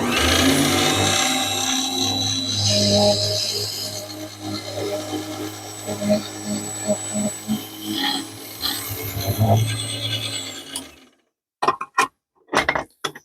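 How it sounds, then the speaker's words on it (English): A 2.5mm bit hand-drilled through a balsa wood stick float, with a long steady grinding drone under scraping and creaking, then the drilling stops and a few short sharp handling knocks follow after silence. "drill through the other side"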